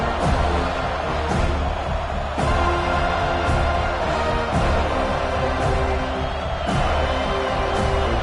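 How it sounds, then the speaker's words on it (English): An American college football stadium crowd roars steadily, a loud continuous wall of cheering and noise with periodic surges, heard under a play-by-play broadcast commentary. "This crowd ready to make its presence known."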